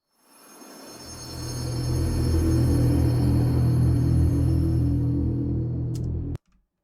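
A dense, shimmering drone fades in and builds into a sustained wash with deep rumble beneath and airy high tones, then cuts off abruptly.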